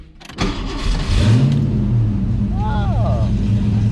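A car engine cranks and fires up close by, jumping to a loud rev before settling into a rough, lumpy idle, with a person speaking briefly over it.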